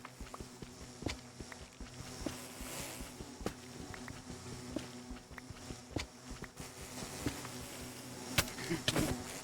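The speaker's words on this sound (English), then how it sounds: "Oh no. Bee flood." A swarm of bees in the Minecraft modpack SkyT gives off a faint, low, droning buzz, mixed with soft footsteps and small clicks.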